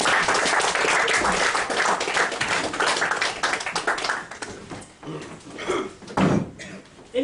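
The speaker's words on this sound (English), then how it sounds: "everyone will give you a round of applause." Audience applause at a live comedy mind-reading show, loud clapping that thins and fades after a few seconds, leaving scattered claps and faint room noise.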